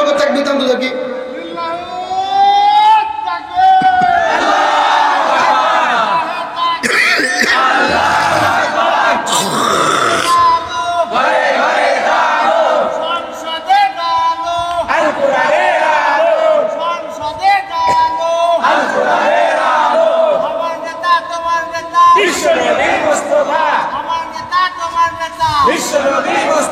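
A large crowd at an Islamic waz sermon in Pabna shouts takbir in loud, repeated collective bursts, the massed voices rising and falling in waves across the whole stretch.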